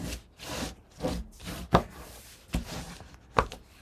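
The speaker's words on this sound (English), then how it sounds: "Now I'll fold those all away from me and burnish again." Folded paper being burnished by hand for a mini album cover and hinge, giving repeated dry rubbing strokes with a few sharp scraping peaks, close and fairly soft, with no voices.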